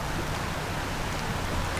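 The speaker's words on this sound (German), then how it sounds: "Es regnet jetzt leider schon wieder" Steady rain falls at a motorhome campsite near the Scharnebeck boat lift by Lüneburg, a soft continuous hiss of drops with no voices.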